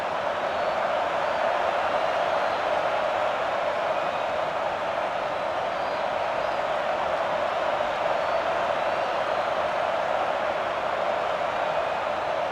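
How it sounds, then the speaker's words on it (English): A packed stadium crowd roars steadily at a season-opening NFL kickoff between the Lions and Seahawks in Madden 07, a constant dense wash of cheering with no breaks. "the crowd in full throat as we get this new season started with the kickoff"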